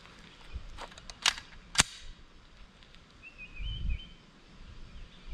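Three sharp reports from an MPA Defender Mac 11 on a hot outdoor range, spaced irregularly within the first two seconds, followed by quieter outdoor ambience and a low rumble.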